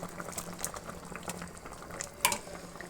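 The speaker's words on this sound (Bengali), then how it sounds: "আলুর দমের ঝোলটা ফুটে গেছে" Potato curry gravy boiling in a pot, a faint bubbling and popping with small irregular ticks, quiet and close, with a brief sharper clink near the end.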